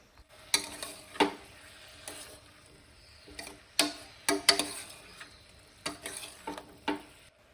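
Ginger-garlic paste in a pan for a pressure-cooker egg curry, stirred with a spoon: a soft background sizzle broken by sharp, irregular clicks and scrapes of the utensil against the pan.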